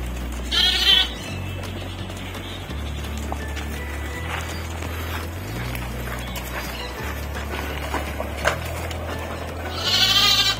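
Goats bleating at a petting zoo in Selangor, with one loud, wavering bleat near the start and another near the end, over a continuous low rumbling hum that shifts in pitch.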